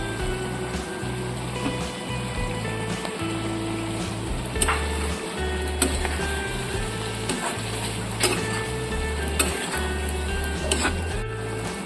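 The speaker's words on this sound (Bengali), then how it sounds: "তৈরি করা পেস্টটা কড়াইতে ঢেলে দিচ্ছি" Spice paste for a Bengali-style soybean curry poured into a hot karai, sizzling steadily over a low frying rumble with faint stirring, close and continuous throughout.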